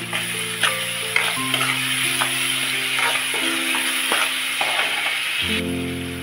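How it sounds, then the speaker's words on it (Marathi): Tomatoes with salt being stirred and sautéed in a pan for a dhaba-style kaju curry, a constant moderate sizzle punctuated by scraping and tapping spoon strokes, with a steady tonal hum underneath and no voices. "टोमॅटो, टाकलेले आपण टाकूया चवीपुरतं मीठ आणि याला आपण परतून घेऊया"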